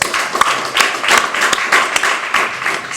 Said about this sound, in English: I'm so touched and I clap so hard.